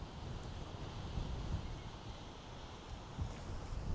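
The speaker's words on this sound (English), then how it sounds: "The wind is crazy." Strong wind buffeting a microphone at a grass airfield, a low, rumbling, gusty roar that swells and fades unevenly, with no talking.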